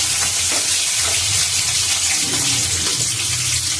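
Okra frying in a pan for sambar, a steady, loud sizzle close up with occasional stirring scrapes, continuing without pause.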